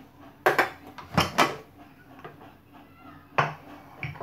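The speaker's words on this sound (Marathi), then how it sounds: "आता आपण कुकर खोलून घेऊ" A pressure cooker, cooled after four whistles with cooked dal inside, is opened with a series of sharp metallic clanks and clicks of the lid, some ringing briefly, close by.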